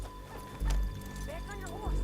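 A horse in Red Dead Redemption 2 clip-clops along and gives a short whinny, moderately close, layered over a busy bed of game sound and voices.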